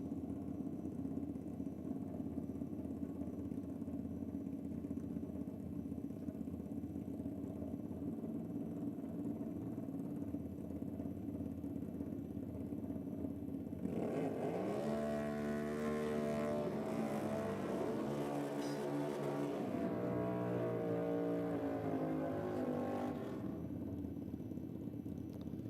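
A metric 1000cc sport bike and a big-cube Harley-Davidson doing burnouts at a no-prep drag racing event in Australia, a steady engine drone that swells into loud revving with shifting pitch for several seconds, then settles back to idle.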